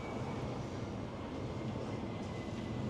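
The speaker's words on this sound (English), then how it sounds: "And here we have the Metro Mover going over." Miami Metromover train passing overhead downtown at night, a low steady rumble and rolling hum that stays even throughout, faint and distant against city background noise.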